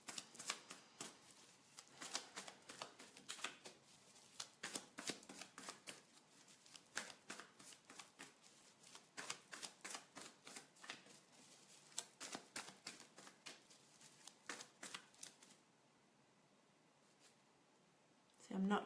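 A deck of tarot cards is shuffled by hand in rapid, irregular riffles and flicks, close and fairly soft, continuing for a long stretch before dropping to near quiet.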